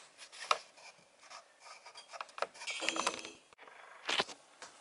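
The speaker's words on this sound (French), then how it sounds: "Maintenant, on va tracer la ligne de l'arrière en joignant" A pencil scrapes along a wooden board in short rasping strokes, ruling the stern line for a small boat hull in a woodworking shop, with a faint clink of tools between strokes.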